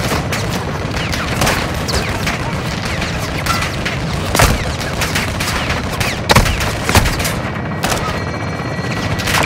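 Belt-fed machine gun fire in Call of Duty: Modern Warfare 2, a dense sustained fusillade of rapid shots with several louder booming bursts standing out, loud and continuous throughout with no talking.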